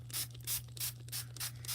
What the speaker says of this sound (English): let's spray here.